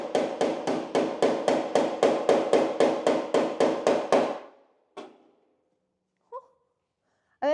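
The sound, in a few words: hammer pick tapping out car body dent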